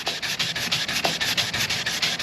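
Wet sanding of cracked boat gelcoat with a sanding block gives a close, rhythmic rasping, about seven even back-and-forth strokes in quick succession, with no talking.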